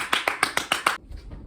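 A person imitates fast clapping from a white elephant gift exchange, giving six quick, sharp claps in an even rhythm, close and fairly loud, then falling silent.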